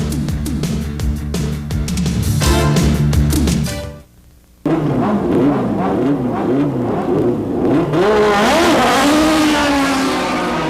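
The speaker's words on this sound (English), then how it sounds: "That's the sound of the 16-valve double overhead cam Toyota Atlantic Championship racing engine." A Toyota 16-valve double overhead cam Atlantic Championship racing engine screams through repeated high revs and gear shifts, dropping briefly quiet before roaring back with rising, swooping pitch, at a Toronto race.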